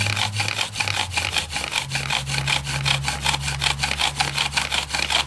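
A bow drill spins against a wooden fireboard to make fire, giving a fast, even run of rhythmic rasping strokes, loud and close, with a low hum beneath and no talking.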